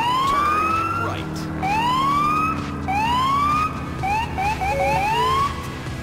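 Police car siren in the video game GTA 4, rising wails followed by a quicker yelping pattern, loud over low engine rumble with faint talk beneath.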